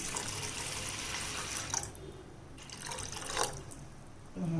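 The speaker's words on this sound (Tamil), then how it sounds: "நம்ம பருப்பு முழுகிற அளவுக்கு தண்ணியை சேர்த்துக்கலாம்" Water pours into toor dal for sambar, a steady splashing stream that pauses and resumes, quiet and close, with no speech.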